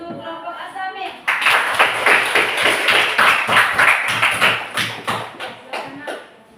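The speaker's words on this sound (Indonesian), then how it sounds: "Tepuk tangan untuk kelompok Asamik." A classroom group of students applauds a group that has just finished presenting its discussion results, dense overlapping clapping after a brief spoken opening, steady and fairly loud before tapering off at the end.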